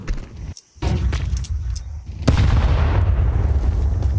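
A grenade going off in a Counter-Strike match: scattered clicks and pops, then a sudden loud blast that rolls into sustained rumbling noise to the end.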